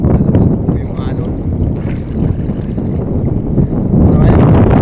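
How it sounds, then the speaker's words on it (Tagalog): Strong sea waves wash and churn around a small fishing boat heading home, a loud, continuous rumbling roar of water and wind buffeting close to the microphone, with brief surges throughout. "malakas na po yung alon."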